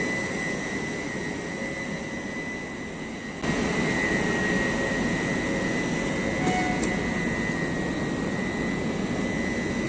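WAP7 electric locomotive 37237 from the Ghaziabad electric loco shed, built in 2019, hauling the Dehradun–New Delhi Shatabdi Express, gives a loud, steady whirring roar of blowers and motors that steps up slightly partway through, with no talk.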